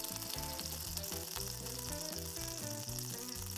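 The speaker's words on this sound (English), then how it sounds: "Today I decided to shallow fry my koftas because I want that perfect golden crust" Koftas shallow fry in a pan with a steady, close sizzle and crackle, while music plays underneath throughout.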